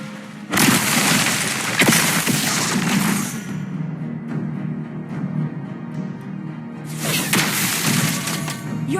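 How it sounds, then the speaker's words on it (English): A turret being destroyed in a video game: a dense, loud crash of shattering debris and booms that fades into a low rumble, then a second burst of crashing blasts, with faint game tones underneath. "Your team destroyed a turret."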